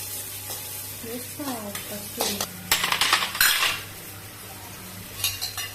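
Small chopped onion pieces fry in a pan, with a soft sizzle beneath close clinks and scrapes of a utensil stirring against the metal.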